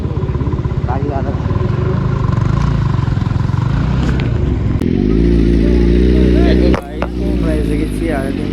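Motorcycle engines rumble and rev loudly at a roadside dhaba bike meet after a Sunday ride, a steady close drone with a sharp dip near the end, under people talking.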